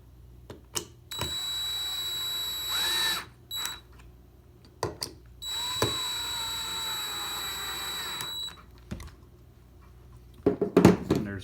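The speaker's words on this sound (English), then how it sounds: "for time's sake, I'm going to cheat and I'm going to use a drill" A power drill drives screws into a step stool during assembly, two sustained whining runs of several seconds each, with short taps and clicks of handling around them and a clatter at the end.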